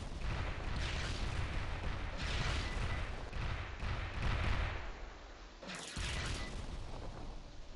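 Rapid, continuous turret gunfire from the Thor main gun in the video game Wing Fighter, booming bursts layered into a dense, loud barrage with a brief drop before firing resumes.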